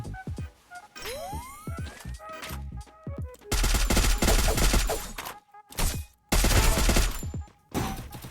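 Gunfire from the video game Free Fire comes in rapid bursts, loud and close, separated by short gaps and ending in a final volley. Game effects are mixed in, with almost no talk.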